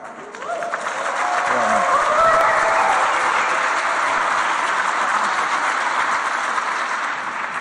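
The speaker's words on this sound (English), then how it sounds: "Okay, everybody. Round of applause." Sustained audience applause at a learning technology conference session, swelling quickly and holding steady for several seconds with a few voices mixed in.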